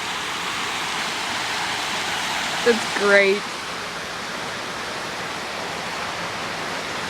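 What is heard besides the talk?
water gushing from an exploded water tank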